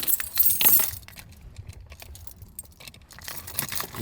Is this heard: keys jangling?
yes